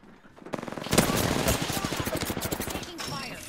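Rapid automatic gunfire bursts in the Apex Legends video game, a dense close rattle of shots lasting several seconds with brief pauses, loud and punchy.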